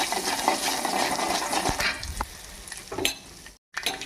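Mustard seeds, chana dal and cumin crackle and sizzle in hot oil in a pan, a steady close frying hiss with a few sharp pops and a clink of a utensil, ending in a brief silence.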